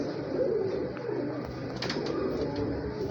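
High flyer breeder pigeons coo softly and repeatedly at close range over a steady ambient hum, with faint bird chirps mixed in.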